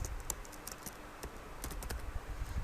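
Keys clatter on a computer keyboard while text is typed into MS Word 2016, giving a close, irregular run of crisp clicks and taps with no voices.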